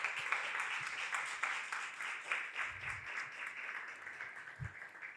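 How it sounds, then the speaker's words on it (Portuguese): An audience at a university health programme event applauds to welcome selected students, a steady, fairly faint wash of many hands clapping with a few louder low thumps. "E aí eu queria pedir uma salva de palmas a todos vocês."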